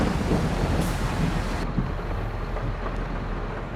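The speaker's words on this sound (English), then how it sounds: "It's 10:30 and the rain has started." Steady, dense rain pours in Farming Simulator 22, a loud continuous hiss with low rumbling underneath, with no voices.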